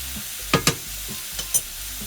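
Venison seasoned with dried spices browns in a pan with a low steady sizzle, broken by a few sharp scrapes and clinks of stirring, no voices.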